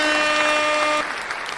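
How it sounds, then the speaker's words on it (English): Brief applause from an audience during a live trading broadcast, a short steady burst of clapping with a faint tonal hum underneath that drops away partway through. "we're gonna give you right now a big applause"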